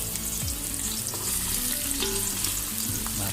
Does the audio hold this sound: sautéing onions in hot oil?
yes